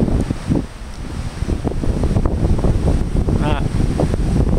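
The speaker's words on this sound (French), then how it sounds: "Ah, là quand il y a des rafales." Strong wind gusts roar through moving trees outdoors with heavy rumbling buffeting on the microphone, loud and continuous, with a person speaking over it.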